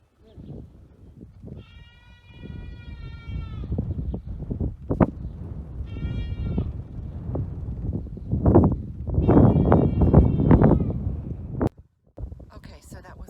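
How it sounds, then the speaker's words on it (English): Goats and lambs bleat in short harmonic calls at a Bedouin camp near Aqaba, Jordan, several bursts over steady outdoor wind and background talk, with a rustling scrape near the end. "You hear the little lambs or goats"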